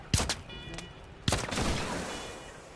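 Gunfire in a video game, two sharp bursts of rapid shots close together, followed by a lingering rumbling tail, fairly quiet overall.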